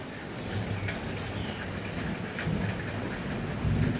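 Steady heavy rain pours down in a dense, continuous hiss, with low rumbling underneath that swells slightly toward the end.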